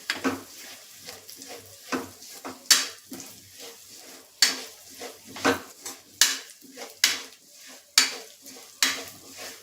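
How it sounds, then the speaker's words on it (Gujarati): A utensil stirs and scrapes garlic chili raita in a bowl, giving repeated sharp clinks and scrapes at an irregular rhythm, close and fairly quiet with no talking. "અને બરાબર મિક્સ કરી લેશું."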